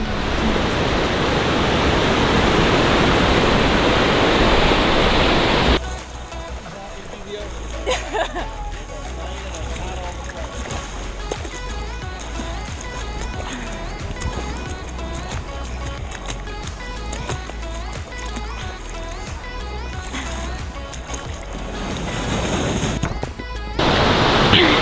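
Ocean surf at a beach, a loud broadband wash of breaking waves at first, then a steadier, quieter roar of water with occasional voices.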